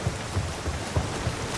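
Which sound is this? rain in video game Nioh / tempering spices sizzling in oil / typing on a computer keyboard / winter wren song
rain in video game Nioh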